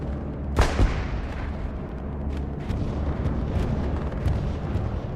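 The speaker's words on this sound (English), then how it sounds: "Oh, there comes a bombing run airhead." Bombing run explosions in the video game Hell Let Loose: a sharp nearby blast lands early, then deep rumbling booms and scattered distant detonations roll on over a continuous low battlefield roar.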